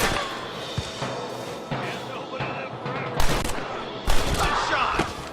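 Gunshots in Red Dead Redemption crack over a busy, noisy backdrop, with two loud, sharp blasts standing out toward the end among scattered smaller shots.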